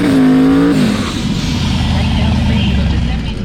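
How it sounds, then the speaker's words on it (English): A BMW drag car with big turbos and M&H Race Master 275 mm rear slicks revs loudly at the strip, then a steady heavy engine roar with a shifting tone, close and dense throughout. "We're going to run this BMW with the big turbos and big M&H Race Masters on the back."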